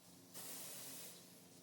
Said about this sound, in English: I start off spraying a tack coat